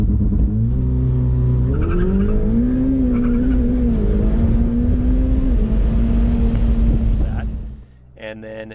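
A Ferrari F8 Spider sits at held revs with a loud engine drone, then launches hard with launch control as the pitch climbs smoothly through acceleration, close and dominant, ending in a brief tonal whine as it fades.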